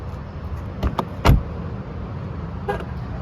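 2025 Jeep Gladiator High Tide locking by a tap on the door handle, with a few soft mechanical clicks followed by one short loud horn chirp, then a faint later click.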